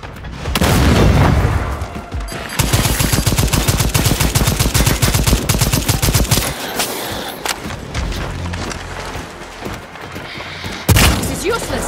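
Second Extinction video game combat: a heavy grenade blast followed by sustained rapid gunfire bursts, loud and close, with further booming impacts and dense weapon noise throughout.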